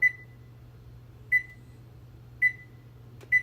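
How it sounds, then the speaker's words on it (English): Four short, identical electronic beeps sound at steady intervals over a low hum as a kitchen oven timer is being set. "so I'm going to set my timer for 1 hour."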